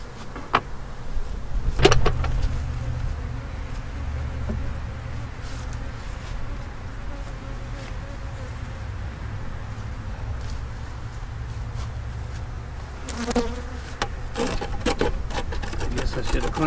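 Honey bees buzz steadily while being transferred to an observation hive, carrying pollen and nectar, with a constant low drone throughout and a few sharp handling knocks near the start and toward the end.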